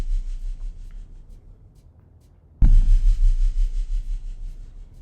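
Drums from the first chorus of a 90s nostalgia-style track, with a depth kick from an Alchemy reverb preset: muffled, pulsing low kicks under a soft wash, broken by a bright crash-like hit midway, then steady thumping.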